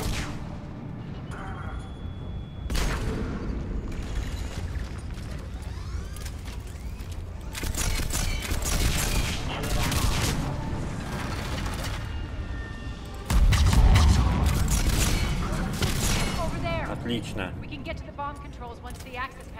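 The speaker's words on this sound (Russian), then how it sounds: "Как они четко закидывают гранаты." Grenade explosions and bursts of gunfire in the video game Mass Effect 3 come as repeated heavy booms and crackling shots over game sounds, with a player talking throughout.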